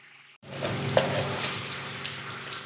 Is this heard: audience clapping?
no